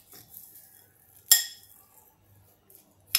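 A spoon stirs moong dal mixed with raw mango, sugar and salt in a metal vessel, giving two sharp clinks a couple of seconds apart amid faint soft scraping, close and without talk.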